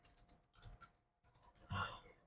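Faint keystrokes on a computer keyboard as a customer's mobile number is entered in a banking login screen: a few quick taps, a pause, then more taps ending in a slightly heavier key press.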